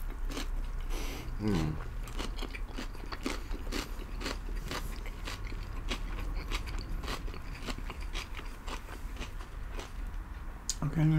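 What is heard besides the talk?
eating and chewing sticky rice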